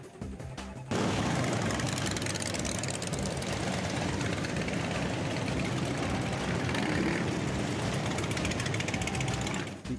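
A roaring crowd of Harley-Davidson motorcycle engines kicks in after a brief quiet moment, a dense, loud rumble that stays steady and powerful to the end.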